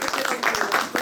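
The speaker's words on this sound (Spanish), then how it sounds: "Un aplauso." Brief burst of audience clapping at the close of a Christmas-themed community talk in a Spanish town, scattered claps mixed with voices for about a second.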